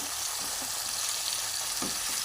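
Hilsa fish pieces fry in a pan with a steady, bright sizzle of hot oil that holds close and even throughout, broken by a couple of soft stirring scrapes and no talking.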